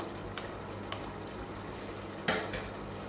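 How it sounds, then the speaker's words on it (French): Tomato sauce for fish and shellfish being stirred in a pan, a soft continuous sizzle with a few sharp scrapes and knocks of the utensil, one louder clatter near the end, close and fairly quiet with no talking. "Donc là, on va bien mélanger tout ceci."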